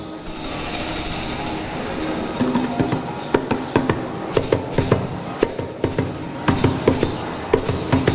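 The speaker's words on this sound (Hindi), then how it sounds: "एक यात्री जो जल्दबाजी में है, चलती ट्रेन में चढ़ने का प्रयास करती है।" A moving passenger train on the Konkan Railway rumbles along, with a rising whoosh followed by repeated rhythmic clacks and thumps of wheels over rail joints at moderate distance.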